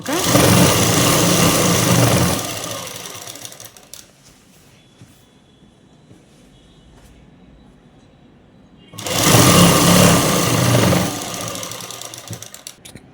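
An electric sewing machine stitching a rounded fold on a dress, running in two loud, steady buzzing bursts of about two seconds each, separated by a quiet pause with faint handling noises.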